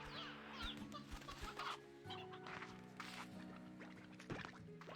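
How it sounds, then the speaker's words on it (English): Chickens cluck repeatedly in the video game Slime Rancher 2, with scattered short clucks and calls over a steady layered game music bed, moderately close and without speech. "I do have all these chickens."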